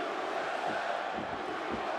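A large Boston arena crowd at a UFC fight roars steadily behind an American fighter, a dense continuous wash of cheering and shouting with no clear pauses.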